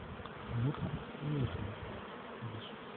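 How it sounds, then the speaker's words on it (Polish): A fly buzzes close by during honey harvesting, in short droning bursts that rise and fade, over a faint background hiss. "Czekaj, siedzi taka mucha"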